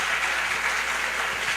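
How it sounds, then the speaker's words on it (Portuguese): Audience applause for caricaturist Reinaldo Figueiredo at a talk, a dense, even burst of many hands clapping that stays steady and fairly close for the short duration. "eu peço a salva de palmas"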